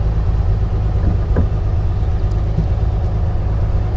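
A 1955 Mercedes 300 SL with a 3-liter inline-six of about 215 horsepower runs steadily, its low engine drone loud and continuous throughout with no talking.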